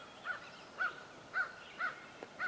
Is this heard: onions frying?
no